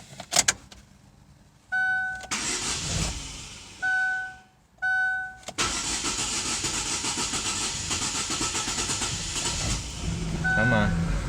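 A car that had been running rough tries to start after a repair: several bursts of starter cranking separated by pauses, then the engine catches and settles into a steady idle, with a brief chime near the end.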